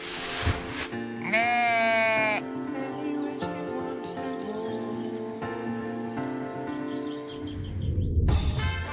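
Several sheep bleat, one loud wavering cry up close followed by overlapping lower bleats from the flock, continuing on and off.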